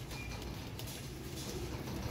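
Pigeons coo softly in a loft, faint low calls set against a quiet, steady background hum.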